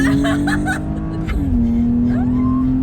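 A taxi's engine drones loudly and steadily as it takes a corner in Highlands Park, with the pitch dipping and settling and a brief rising tyre squeal cutting through.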